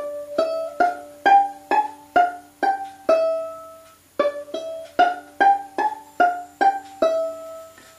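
A violin plays the arpeggio run-up from the fiddle tune Drowsy Maggie in two rising phrases of quick, clearly separated notes, bowed alone and close.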